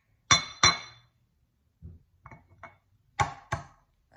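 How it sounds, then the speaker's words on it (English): An egg cracked open against a bowl, heard as sharp, clinking knocks in separate pairs with short pauses between, close by and clear, followed by softer taps as the shell is pulled apart, with no talking. "Crack it open."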